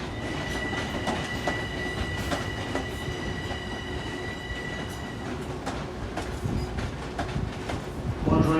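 A New York subway train to Atlantic Avenue, Brooklyn rumbles steadily alongside a platform, wheels clacking over rail joints, with a high sustained squeal and a slight rise in noise near the end.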